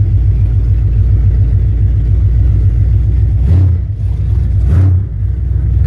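A car creeps forward in drive on a test run, its engine idling with a low, steady rumble up close and two brief swells of throttle near the end, with no talking.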